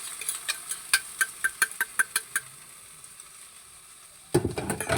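Eggs go into a pan for a simple home-cooked meal, with a rhythm of light taps and clicks first, then a sudden loud sizzle that keeps going.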